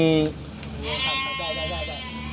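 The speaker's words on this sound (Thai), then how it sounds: "มีแพะมีแกะอยู่ครับฟามแพะฟามแกะอยู่ข้างหลัง" Goats and sheep bleating on a farm behind a house, several wavering calls in quick succession at moderate distance over a steady low hum.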